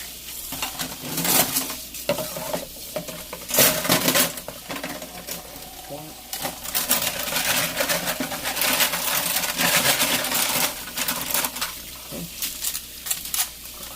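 Dishes being rinsed by hand under running water after washing with lemon-scented dish soap, a steady close wash of water with intermittent clinks and scrapes of dishware, loud and continuous, no talking.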